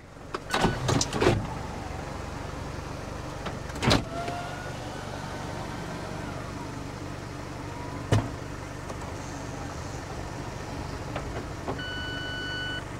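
Power retractable hardtop roof motor on a 2007 Mazda MX5 Roadster Coupe PRHT, a steady electric whir running throughout with a few clunks and clicks near the start and middle, fairly close.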